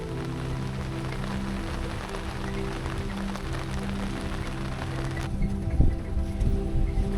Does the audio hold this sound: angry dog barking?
no